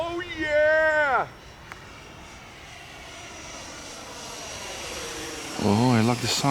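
An FMS T-45 Goshawk 70mm 12-blade 6S EDF RC jet flies during its maiden flight, a steady whooshing turbine-like whine rising and fading with distance, while someone talks at the start and end.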